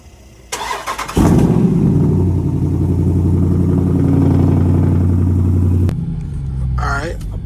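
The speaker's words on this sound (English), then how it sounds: "Do a little cold start real quick." A Dodge Durango SRT fires from cold: a brief starter crank, then a loud, close roar that holds as a heavy, rumbling high idle before cutting off abruptly, with faint talk afterward.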